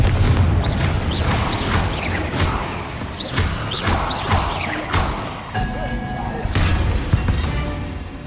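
A blasting spell in the Hogwarts Legacy video game set off repeatedly, heavy booming bursts and crashes over a dense, loud background of battle effects and rumble.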